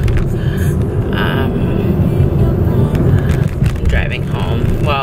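Steady low road rumble from inside a moving car, a constant droning hum with faint tire and wind noise, loud and close, with a person talking intermittently over it.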